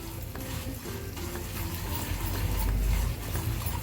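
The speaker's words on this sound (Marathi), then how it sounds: "ते मी गूळ टाकून घेतला आहे। आपल्याला फक्त हा वितळून घ्यायचा आहे।" Jaggery melting in two spoons of ghee in a pan for coconut rice, giving a steady low sizzle and bubbling that swells slightly toward the end, with no talking.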